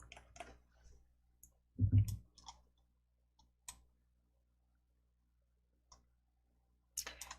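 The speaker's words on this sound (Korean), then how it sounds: "이중선으로 클릭입니다." Computer mouse clicks while formatting shapes and fonts in PowerPoint, a few sparse, soft, close clicks with one louder thump near the middle, separated by quiet gaps.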